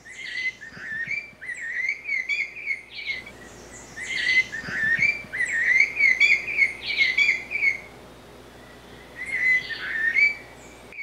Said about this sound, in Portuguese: Praticamente um papagaio com canto de sabiá.